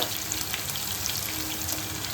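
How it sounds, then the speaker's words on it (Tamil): Crushed garlic and curry leaves fry in hot oil, already spiced with crackling cumin and mustard seeds, making a steady close-up sizzle with fine crackles and faint stirring throughout. "இப்போ எடுத்து தட்டி வச்சுருக்கிற பூண்டை போட்டுக்கலாம்."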